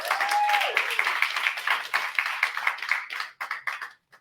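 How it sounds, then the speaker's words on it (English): Audience clapping fills most of the stretch as a steady, fairly loud patter of many hands, with a brief tonal whistle near the start, before thinning into scattered claps and fading out. "give yourself a round of applause"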